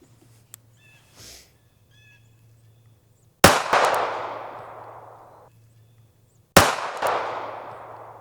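Two sharp, loud shots from a Smith & Wesson Bodyguard pistol test-fired after a year of everyday carry, spaced about three seconds apart, each ringing out with a decaying echo over a faint background hum.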